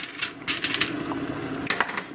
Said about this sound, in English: move them around on the pan so that they don't stick or burn